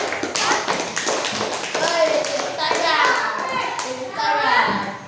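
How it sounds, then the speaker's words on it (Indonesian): Children clapping for classmates in an Indonesian school classroom: sustained, brisk applause from many small hands close by, with kids' voices chattering over it. "Kasih dulu tepuk tangan untuk teman-teman"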